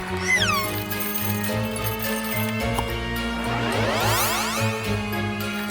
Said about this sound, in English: There's a green cat inside.